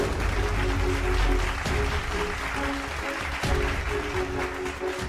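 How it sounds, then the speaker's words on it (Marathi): Clapping from a crowd gathered for a baby's naming ceremony carries on steadily as a continuous broadband patter, fairly loud and close, with a low hum and faint tones beneath. "टाळ्यांचा आवाज आहे ना?"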